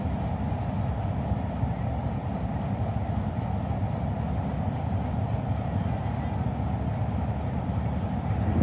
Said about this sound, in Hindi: रात के सन्नाटे में हिटाचियों की घनघोर आवाज़ अभी हमारे सरगोधा जंक्शन पर एक अजीब सा समा पैदा कर देगी